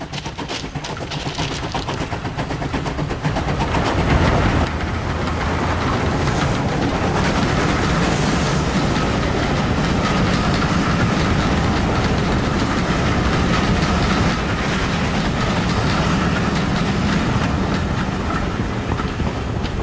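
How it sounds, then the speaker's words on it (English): A railway train rushes past close by, a loud, continuous roar of wheels and clattering cars on the tracks filling the whole stretch without letup. "A train! Stand back!"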